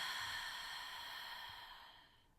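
A slow, steady exhale through the mouth during a guided breathing exercise, a soft airy breath that gently fades out over a couple of seconds, close and alone.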